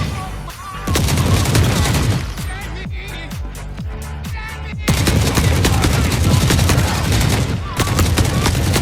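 M16 rifle firing in the war game The Forever Winter, loud rapid bursts of gunfire with sharp repeated cracks, a brief lull in the middle and then continuous automatic fire to the end.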